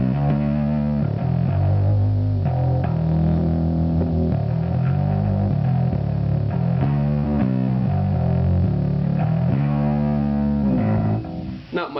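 A passive Jazz bass with its tone knob turned back a little runs through a Fender Sublime bass fuzz pedal, playing a thick, distorted riff of repeated low notes, close and loud, ending with a brief cutoff and no talking.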